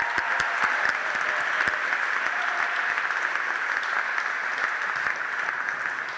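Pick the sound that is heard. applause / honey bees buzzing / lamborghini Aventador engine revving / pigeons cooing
applause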